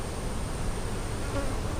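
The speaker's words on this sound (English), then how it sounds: "See a lot of very young bees, very, very young white looking bees that just emerged." Honey bees in a nuc hive hum with a dense, steady buzz throughout, a close swarm drone with no pauses and no voices.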